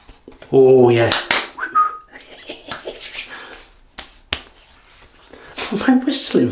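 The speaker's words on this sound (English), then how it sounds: "What am I whistling for?" A person whistles a few short bright tones, interspersed with sharp snaps or clicks and some brief talking nearby.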